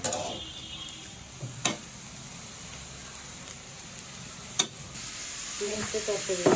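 Green chillies and chopped coriander fry in a pan with a moderate, steady sizzle, punctuated by a couple of sharp utensil clicks. The sizzle grows louder near the end, where a voice briefly speaks.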